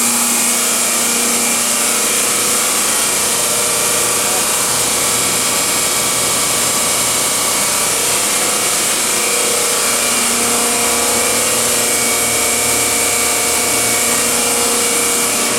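A vacuum blower on a soil vapor extraction remediation trailer runs loud and continuous, a dense, steady roar with a whining hum and no breaks, close by and with no voices over it.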